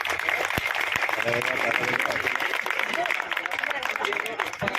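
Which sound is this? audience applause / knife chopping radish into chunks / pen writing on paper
audience applause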